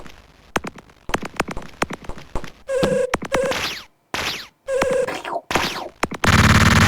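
Retro electronic shots fire in the shareware platform game Electroman, coming as a rapid series of sharp bursts and zaps with brief silent gaps and a loud crackling blast at the end. No one speaks.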